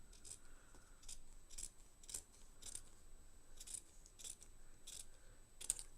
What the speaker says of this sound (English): Let's get this cut here. And just follow your line right along the edge.